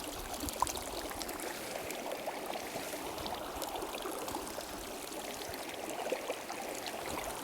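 Steady soft trickling water runs continuously through a survival water filter, faint and close, with no other sounds.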